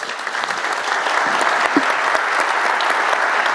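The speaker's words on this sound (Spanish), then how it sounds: "despedimos a los expositores con un aplauso agradeciéndoles" A conference audience gives a short, steady round of applause as a panel ends and the speakers are thanked, dense clapping at an even level throughout.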